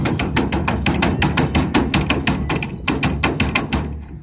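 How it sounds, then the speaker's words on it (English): A hammer strikes a wooden pallet to knock nails out, a rapid run of sharp, loud, evenly spaced blows continuing without pause. "get our hammer,"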